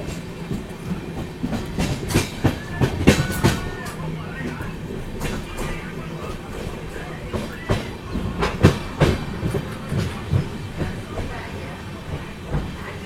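A passenger train runs on rails with steady rumbling and a repeating clickety-clack of wheels over rail joints, heard from inside the carriage, with some hiss and voices in the background.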